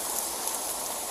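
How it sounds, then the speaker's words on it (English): Rain falls outside in a steady, soft hiss that keeps up evenly through a short moment, with no voices and nothing else standing out. "Raining out."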